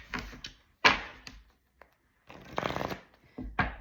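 A deck of cards shuffled by hand in several quick riffling bursts separated by short pauses, crisp and close with sharp flutters and soft taps.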